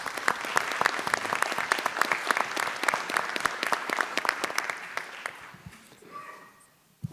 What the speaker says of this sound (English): he deserves a round of applause for doing that